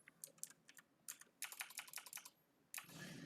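Someone types on a computer keyboard while writing code, close and quiet, with irregular bursts of sharp key clicks separated by short pauses and a heavier cluster at the end.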